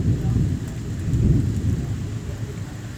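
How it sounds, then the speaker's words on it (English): Deep, heavy thunder rumbles continuously beneath steady rain during a December thunderstorm in Connecticut with freezing rain, sleet and hail, loud and close, swelling and fading over a few seconds. "You hear that? That's thunder."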